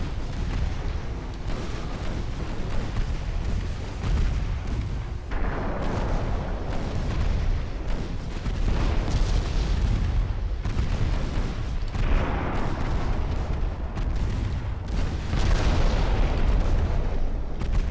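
Torpedo hits and explosions in a naval combat game, a steady run of deep booming blasts and rumbling detonations that repeat over a constant roar, loud and close, with no talking.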